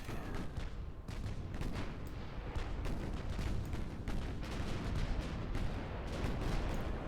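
Naval gunfire in the warship game Ultimate Admiral: Dreadnoughts, a steady barrage of overlapping cannon shots and booms with crackling bursts, dense and continuous at moderate loudness.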